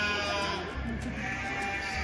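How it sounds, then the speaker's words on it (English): Goats bleating nearby over a busy background murmur at a wool market in Estes Park, a few wavering cries. "Goats."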